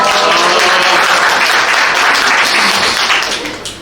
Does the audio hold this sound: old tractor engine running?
no